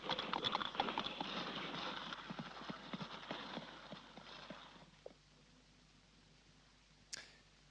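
Horse hooves clip-clopping in an old horror film, a rapid run of close, crisp hoofbeats that thins out and fades to quiet, ending with a faint sharp click.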